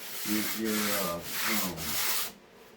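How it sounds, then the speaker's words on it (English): Sandpaper rubs across glue joints, ribs, cap strips and sheeting on a wooden model airplane. The strokes are close and scratchy, four or five in a steady back-and-forth rhythm, and they stop abruptly at the end. "sanding"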